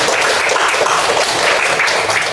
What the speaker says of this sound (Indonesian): beri aplaus dulu untuk penjelasan